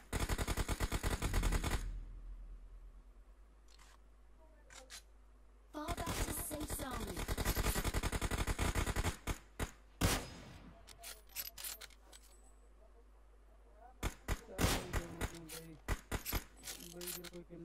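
Rapid bursts of automatic gunfire in PUBG on the Livik map, loud and close, arriving in long sustained volleys broken by quiet gaps and short clustered shots, with faint game ambience between.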